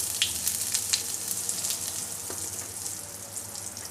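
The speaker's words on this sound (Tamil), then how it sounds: "இப்போ இதில் கடுகு பொரியட்டும்" Mustard seeds splutter and crackle in hot sesame oil, sharp pops scattered over a steady sizzle that is loud and close at first, then settles into a softer hiss.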